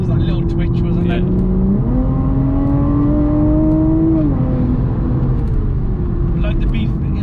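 A 500 bhp car accelerating on a test drive, its engine note climbing steadily through a long pull, dropping back, then rising again, loud and close from inside the cabin.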